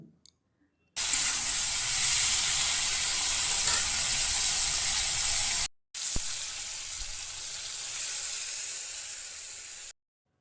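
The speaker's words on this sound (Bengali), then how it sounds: "কড়াইয়ের মধ্যে দিয়ে দিলাম একটু পাঁচফোড়ন এরপরে আলুগুলো দিয়ে দেবো" Panch phoron spices and potatoes sizzle in a kadai, a loud, steady frying hiss that starts abruptly, cuts out briefly, then resumes before stopping, with no talking.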